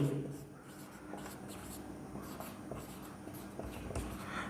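Handwriting during a maths lesson, a continuous faint scratching and rubbing of a pen on a writing surface with irregular strokes, heard close and soft.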